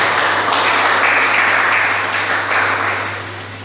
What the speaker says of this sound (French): On acclame la parole de Dieu.